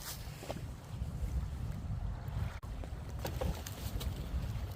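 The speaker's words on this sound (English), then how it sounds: "Well, as you can see, it's pretty windy here." Strong outdoor wind buffets the microphone in a steady, loud, low rumble that swells and dips unevenly throughout, with no clear voices.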